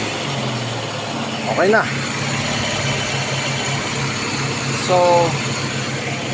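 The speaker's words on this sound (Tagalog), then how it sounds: "Engine is running good." A Toyota bB engine idling steadily nearby after fuel line and electrical repairs, a constant low rumble with brief speech over it.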